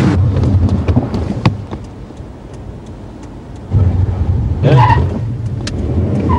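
A car on the road during a driving lesson for a would-be stunt driver, with a steady engine and road rumble throughout, a few sharp knocks, and a louder surge of engine and road noise near the end.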